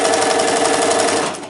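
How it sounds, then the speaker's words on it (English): A sewing machine stitches a quilt binding seam with a 1/4 inch foot, giving a loud, fast, steady mechanical whir that eases off at the very end. "using my 1/4 inch foot I'm going to sew with a 1/4 inch seam allowance"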